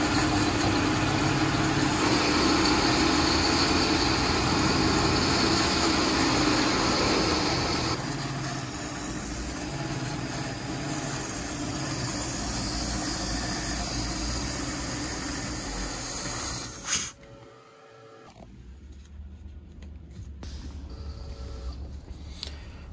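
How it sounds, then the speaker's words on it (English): A boat engine runs at a steady, loud idle while being fogged for winterizing, then sputters and cuts out near the end, leaving quiet low rumble afterward. "I'm going to go up there and start fogging the engine until it completely dies"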